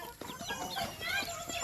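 Mother hen clucking near her chicks in a breezy farmyard, soft repeated clucks close by over outdoor noise.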